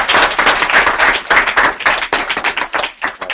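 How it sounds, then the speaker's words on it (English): A small group of customers claps at a sales closing talk, dense overlapping hand claps filling the whole stretch, close and lively, with no one speaking over them. "Can we give my customers a round of applause,"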